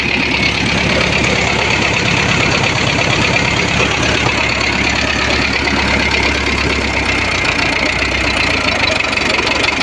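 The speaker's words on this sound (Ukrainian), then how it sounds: "Ну це ж СМД, послухайте, як він робить." A YuMZ tractor's SMD diesel engine idles close by, a loud, steady rumble with a constant knocking beat that runs without a break and with no talking.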